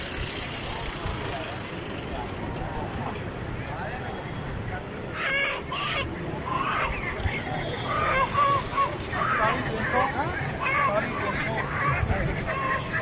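Busy outdoor bird market ambience in Lahore with scattered honking and squawking from ducks and geese, goose calls rising midway, under chatter and distant traffic.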